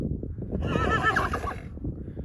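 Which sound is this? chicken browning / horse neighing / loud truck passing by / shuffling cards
horse neighing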